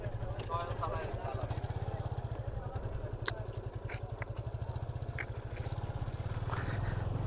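A Yamaha FZ25 motorcycle on a test ride in Khulna, its single-cylinder engine thumping in a fast, steady pulse that swells as it revs, close and loud, with a voice speaking briefly over it.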